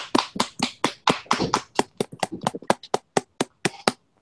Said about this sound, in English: A round of applause for Double C.